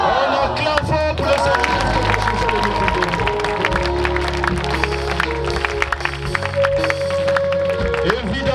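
A large crowd at an evangelism rally cheers and applauds loudly and continuously, with dense clapping and shouting blended with voices throughout.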